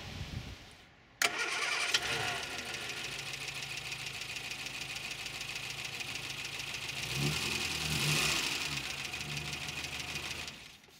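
A Morris Minor engine with ignition trouble cranks and catches with a sharp start, then runs loud and rough with an uneven, knocking idle that swells briefly near the end.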